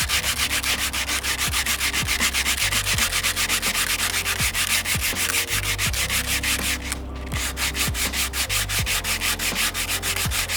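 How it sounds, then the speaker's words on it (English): Hand sanding mid-century modern wood furniture with curved sandpaper gives fast, even back-and-forth rasping strokes, loud and close, continuing unbroken with no voices. "I'm gonna curve the sandpaper so it fits in the handle."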